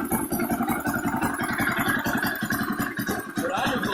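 Car engine freshly fitted with new valve cover and water pump gaskets runs at a steady idle close by, a rhythmic low chugging with light ticking clatter layered over it throughout.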